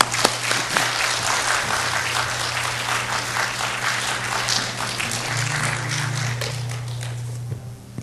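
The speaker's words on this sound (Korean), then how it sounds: "나오시면서 함께 곱배기로 우리 박수로 우리 환영하겠습니다" A church congregation applauds to welcome a visiting missionary family, with broad sustained clapping that stays steady for several seconds and then thins out, heard without talk over it.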